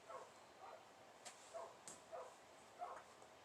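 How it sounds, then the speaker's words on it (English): Several dogs bark and yip outdoors at a distance, with faint, scattered barks recurring irregularly against quiet background noise. "there's so many dogs barking outside right now"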